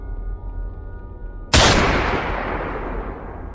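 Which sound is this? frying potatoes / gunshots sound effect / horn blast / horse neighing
gunshots sound effect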